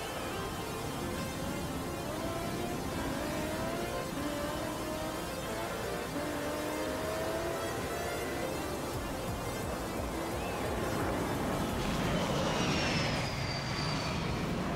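Roaring jet engine of a Vulcan bomber in the racing game Forza Horizon 4, a steady, dense, loud rumble throughout that swells toward the end, with no talking.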